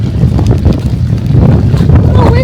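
Strong, gusty winter wind in Narvik buffets the microphone as a steady low roar, swelling and easing in gusts for a few seconds with no voices over it.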